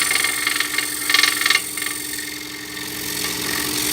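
A scroll saw sander, slowed down to a lower speed, hums with a steady mechanical drone and whir, briefly rising in level during contact before settling back into an even, continuous run.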